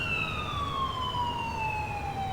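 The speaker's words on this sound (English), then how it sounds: "Here's the ambulance." An ambulance siren in the Grand Theft Auto streets of Liberty City wails in one long, loud, slowly falling tone over a constant traffic rumble.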